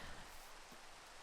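Rain in Minecraft falls as a soft, even hiss of drops on surfaces, faint and steady with no voices over it.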